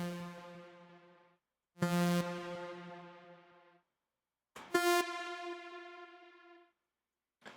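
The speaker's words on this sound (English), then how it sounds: "I'm just going to put this on a dry saw wave because then the effect is the strongest and most audible" A dry synth saw wave runs through heavily modulated delay and reverb. Two bright, buzzy sustained notes ring out one after another, each fading through a long shimmering tail, with only the start of another note right at the end.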